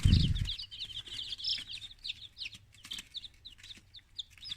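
Yellow chicks peep in a hatching incubator on days 21 to 23, a dense run of small high chirps overlapping close by, with a brief low thump at the start and a faint hum underneath.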